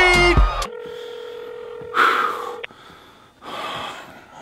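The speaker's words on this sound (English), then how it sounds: "How many times is this thing gonna ring?" Telephone being dialed and then ringing: a short burst of dial tones, then a steady tone, then two long ring bursts separated by a pause, with a breath near the start.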